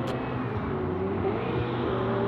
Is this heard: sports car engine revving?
yes